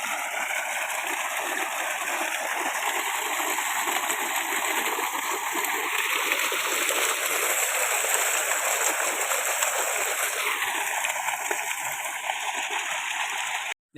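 Water gushes and splashes continuously from a pump outlet, a loud, steady rush of pouring water without pause.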